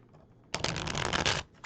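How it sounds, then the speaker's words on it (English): A deck of reading cards is shuffled once, close and crisp, a burst of riffling and flapping lasting just under a second after a quiet pause. "Shuffle."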